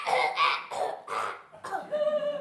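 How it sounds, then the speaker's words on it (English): A performer in a stage comedy forces several short coughs on cue, voiced and a little theatrical, in three or four close bursts with brief gaps between them, heard near and fairly loud. "Cough a little"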